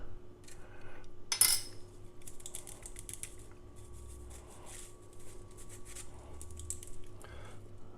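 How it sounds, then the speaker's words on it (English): Flour, baking powder and cocoa sieved into brownie mixture, heard as rapid tapping and rattling of a metal sieve in quick irregular bursts, close and fairly quiet, with no speech. "I'm going to add or sieve in the flour, baking powder,"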